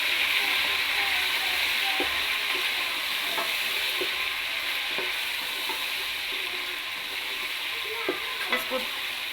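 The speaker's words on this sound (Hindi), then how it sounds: "इसको 2 से 3 मिनट तक ऐसे ही अदरक लहसुन का पेस्ट डाल के भूनना" Chicken frying with ginger garlic paste in a pan, a steady close sizzle with intermittent scraping stirs and soft clinks of the utensil, continuous throughout at moderate loudness.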